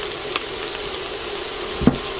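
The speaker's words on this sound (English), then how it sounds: "Now cook these vegetables for another 5 minutes." Vegetables frying in a pan after complete seasoning, onion powder, black pepper, smoked paprika and garlic are added, for shrimp egg rolls: a steady soft sizzle throughout, with two brief louder clinks or stirs.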